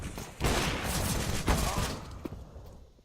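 Gunfire in a Counter-Strike match as players trade kills, a burst of rapid shots and bangs lasting a couple of seconds before fading, mixed with game ambience.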